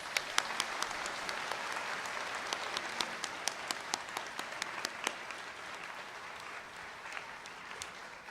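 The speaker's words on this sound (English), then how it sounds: "How about a round of applause for our new conductors?" Audience applause at a high school National Honor Society induction ceremony, a sustained wash of many hands clapping at moderate distance that gradually thins out toward the end, with no one speaking over it.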